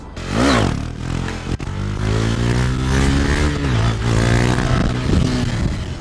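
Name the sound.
motorcycle engine revving during wheelie practice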